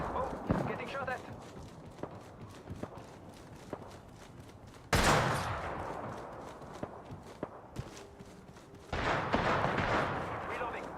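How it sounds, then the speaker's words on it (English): Gunfire in the video game Apex Legends, a few loud bursts breaking through quieter footsteps and movement, with characters talking throughout. "Oh, getting shot at."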